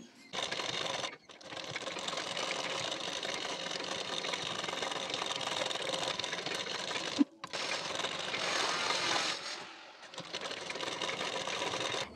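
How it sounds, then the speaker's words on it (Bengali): A sewing machine runs steadily, stitching the fitting seams of a 40-size boat neck blouse, with two brief pauses in its near, continuous whir. "দুই দিকেই সেমভাবে সেলাইটি দিয়ে নিচ্ছি।"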